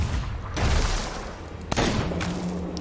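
Gunshots in the pirate video game Sea of Thieves, heard as a loud booming shot followed by a sharp crack and rumbling echo over steady game ambience.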